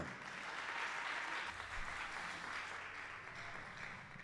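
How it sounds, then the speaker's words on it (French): Sustained audience applause fills a graduation ceremony hall, a dense, steady wash of many hands clapping at once with no voices over it. "Je vous demande d'applaudir le Seigneur."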